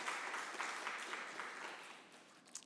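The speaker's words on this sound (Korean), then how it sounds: "이 시간 우리 큰 박수로 두 분을 축복하도록 하겠습니다" A congregation at a Korean church Sunday service in New Jersey gives a round of applause, a soft, distant wash of clapping that fades gradually toward the end.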